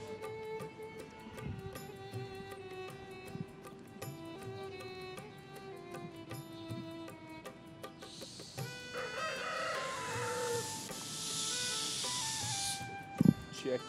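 A Kolangi breed rooster crows in the Dahan Nal area of Bagh Bala, several drawn-out crows rising over an outdoor background, with clucking fowl and a loud hiss joining later.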